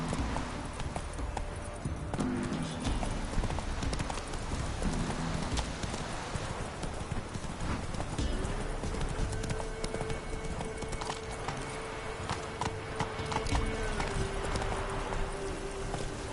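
Roach, the horse in The Witcher 3, gallops with rapid rhythmic clip-clop hoofbeats over a game soundscape, with a faint snort or whinny in the mix.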